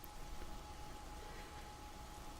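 Rain falls in the survival video game 7 Days to Die, a soft continuous hiss of drops with a faint steady hum underneath, quiet and even with no voices.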